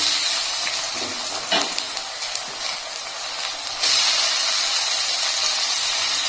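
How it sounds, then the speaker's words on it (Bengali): Chopped tomato hits browned onion in a hot pan, giving a continuous hiss and sizzle with a stirring scrape, then the sizzle swells louder partway through. "পেঁয়াজটাকে আমি লাল লাল করে ভেজে নিয়েছি। এখন আমি এর ভিতরে দিয়ে দিচ্ছি টমেটো কুচি।"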